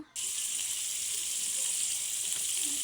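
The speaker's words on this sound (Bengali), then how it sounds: "আমি আলু দিয়ে ভেজে নেব" Loud, continuous sizzling of potatoes frying in hot white oil starts abruptly and holds steady, a bright crackling hiss with no talking.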